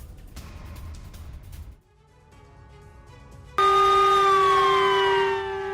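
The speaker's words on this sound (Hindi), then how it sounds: "पूरे ताइवान में युद्ध के सायरन बज रहे हैं।" Air raid war sirens wailing across Taiwan during attack drills, the rising and falling tones first distant and muffled, then a much louder close siren cutting in with a steady, piercing wail.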